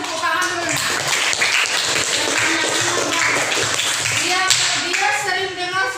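Students in a classroom workshop lesson give a round of hand clapping, a brisk continuous patter mixed with voices of children and the teacher.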